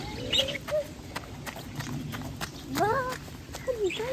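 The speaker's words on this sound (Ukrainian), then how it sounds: "Тут пташки цвірінькають." Small, colourful caged birds of assorted breeds chirping, with short bright repeated chirps and tweets over a busy background of clicks, footsteps and low chatter.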